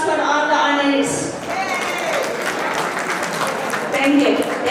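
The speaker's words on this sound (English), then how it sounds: "round of applause for all the honorees." An audience applauds honorees at an Indian cultural festival: a steady, dense patter of clapping from a sizable crowd, heard alongside someone speaking over it.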